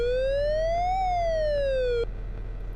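A police car siren from the Amiga racing game Test Drive II: The Duel, a loud synthesized tone that sweeps up, then slides back down and cuts off abruptly, leaving a steady low engine drone beneath.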